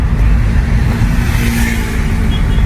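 Car engine pulling steadily under acceleration after a shift into third gear during a driving lesson, a continuous close, loud low hum with no breaks and no talk over it.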